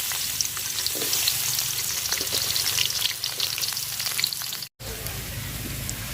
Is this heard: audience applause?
no